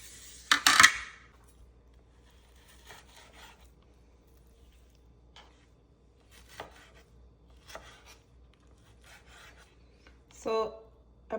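A knife chops roasted pork into small pieces on a board, giving a few sharp, close cuts, with a loud burst at the start and sparse quieter knocks and scrapes afterward in a quiet kitchen.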